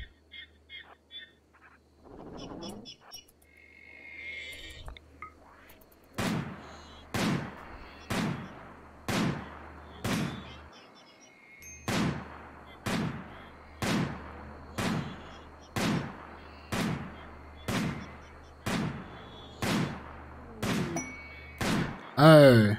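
Repeated gunshots in the RimWorld video game as a colonist fires on an approaching enemy, about fifteen sharp, loud cracks in a steady rhythm roughly one per second, after a brief quieter stretch with a few faint sounds.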